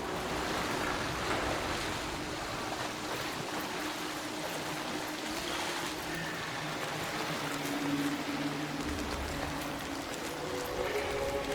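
A waterfall rushes in the video game SoulFrame, a steady broad roar of falling water that holds constant throughout, with no speech over it.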